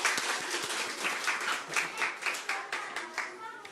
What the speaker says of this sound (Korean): 영광의 박수를 하나님께 보내드리겠습니다